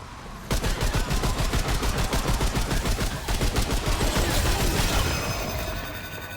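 Rapid sustained bursts of submachine gun fire in the video game Remnant 2, a loud, close, evenly spaced stream of shots running for several seconds before trailing off.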